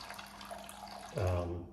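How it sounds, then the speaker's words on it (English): Very warm tap water pours into a bowl for chocolate bread dough, a short close splash and fill rising in the last half-second after quiet room tone. "Into this, I'm going to add 130 grams of very warm tap water."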